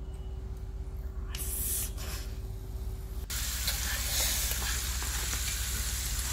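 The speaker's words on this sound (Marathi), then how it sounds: "आलं, लसूण, कोथिंबीर आणि जिऱ्याची पेस्ट आहे, ती घालणार आहोत तेलावर" A paste of ginger, garlic, coriander and cumin hits hot oil partway through, bursting into a loud, steady sizzle that continues to the end.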